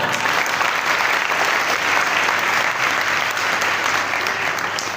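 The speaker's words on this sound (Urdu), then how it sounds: "تو میں چاہوں گا ان بچوں کے لیے، ان کے خاندانوں کے لیے، ان کے ماں باپ کے لیے زوردار تالیاں۔" A church congregation at a Catholic Mass for the Solemnity of the Body and Blood of Christ gives a loud, steady round of applause for the children, a dense, sustained clapping that fills the hall with no speech over it.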